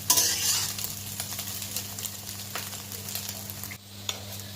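White oil sizzles softly with whole cumin seeds while a spoon scrapes and stirs in a wok, with occasional clinks; a low steady hum runs underneath.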